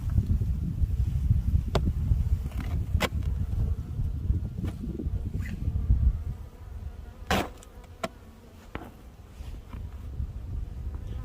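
A steady, dense hum of honeybees at a beehive on a chilly early-spring day, continuous and close, with occasional sharp clicks and a faint wind rustle.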